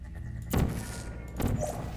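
An energy ball bouncing off surfaces in Portal, two dull thunks about a second apart over a low humming game background, moderately close.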